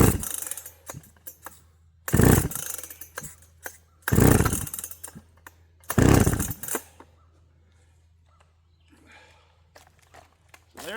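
Three loud, brief bursts from a Makita EA7900P chainsaw, stock out of the box, each one a sputtering pull-start attempt that dies without running, spaced about two seconds apart, with quiet stretches and faint handling noise between them.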